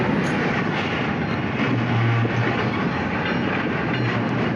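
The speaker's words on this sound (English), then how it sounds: "obviously the train crashes, which he filmed" A freight train derailing after striking a defective car, heard as a loud, continuous rolling roar and grinding rumble from the rail cars, with brief louder squealing tones near the middle and end, no voices.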